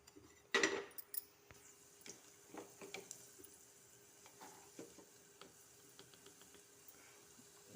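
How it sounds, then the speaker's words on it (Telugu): Urad dal and chana dal hit hot oil in a pan, a faint crackling sizzle with a sharp burst at the start, followed by scattered light clinks and stirring taps. "ఆయిల్ వేడెక్కిన తర్వాత మినప్పప్పు, అలానే శనగపప్పు,"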